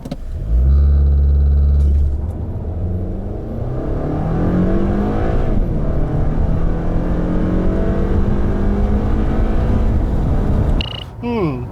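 A 2018 Toyota Camry 2.5 pulls away hard, its engine revving up through the gears with rising, sweeping harmonics, loud and close from inside the cabin, with a short shift pause midway and a voice speaking at the very end.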